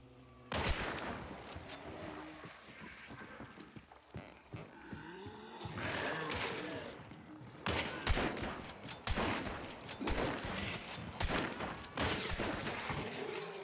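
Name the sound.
gunshots from the video game Hunt Showdown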